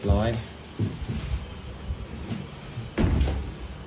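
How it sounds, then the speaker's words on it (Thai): A hotel room door in Hua Hin swings shut with one solid knock near the end, after someone speaks throughout amid shuffling handling noise. "ปิดประตูก่อน"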